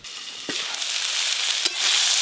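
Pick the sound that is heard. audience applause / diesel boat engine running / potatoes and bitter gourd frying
potatoes and bitter gourd frying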